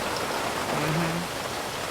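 Rain falling steadily in a garden, an even dense hiss of drops on surfaces with a faint low hum in the background, no voices.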